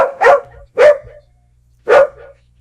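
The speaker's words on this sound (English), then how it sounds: "I even had it make the sound of a friendly dog barking" AI-generated friendly dog barking, three clear mid-sized barks spaced irregularly, loud and close, alone with no other sound.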